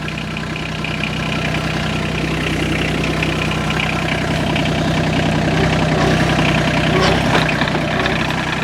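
Tractor engine idling steadily with a low rumble and constant hum while the front loader bucket is tilted back by its hydraulic cylinder, loud and close with no talking.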